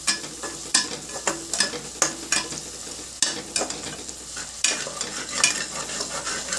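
Onion with ginger garlic paste fries for boti curry while a spoon stirs it steadily, producing rhythmic scraping knocks against the pan over a continuous close sizzle.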